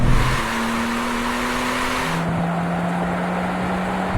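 A Porsche 911 Turbo S accelerates hard in a drag race, its engine tone climbing in a loud, steady pitch, dropping briefly at a gear change, then rising again.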